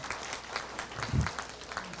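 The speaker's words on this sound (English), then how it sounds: "Give Earl a round of applause because he does an amazing job." A community emergency preparedness event audience in Terrebonne Parish gives Earl a round of applause, heard as faint, distant clapping with a loose, quick rhythm and one slightly louder thump midway.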